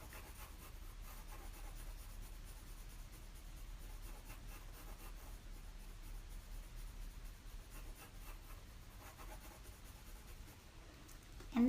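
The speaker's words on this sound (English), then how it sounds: "you're going to color in with this pencil" Coloured pencil rubbing steadily across paper to fill in part of a colour wheel, a faint continuous scratchy shading with a slight bump at the very end, no voices.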